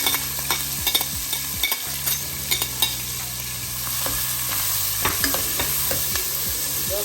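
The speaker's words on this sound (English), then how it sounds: "We add oil. So right away we're just going to add onions." Onions frying in oil in a hot pot for egg stew, a steady close sizzle with scattered crackles and clinks of stirring, no talking.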